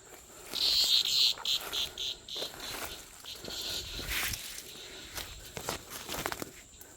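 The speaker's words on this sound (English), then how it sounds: "Cicadas are giving me away." Insects buzz in the woods, loud near whirring bursts that rise and fall, mixed with footsteps through undergrowth.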